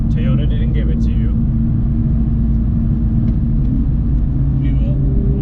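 A 2020 Toyota Supra with a factory 6-speed manual is driven, its engine and road noise making a steady low rumble throughout while people talk over it.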